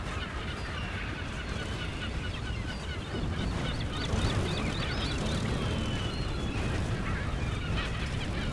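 Dense squawking and honking birds, a loud, continuous chattering flock up close with no voices, in the video game Brütal Legend.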